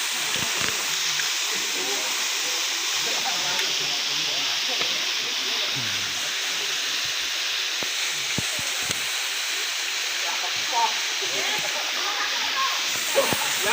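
Constant rushing roar of a waterfall beside a hiking trail on Mount Semungklung, a steady broadband wash of falling water with faint voices murmuring underneath.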